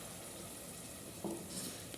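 Ground masala paste sizzles softly in a pan while a spoon stirs it, a quiet steady frying hiss broken by a brief scrape of the utensil against the pan.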